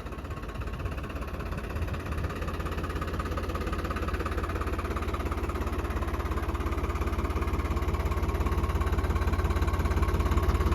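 A New Holland 3630 Super Plus tractor engine runs steadily at close range, a continuous low diesel throb with rhythmic knocking that holds loud and even throughout, no talking.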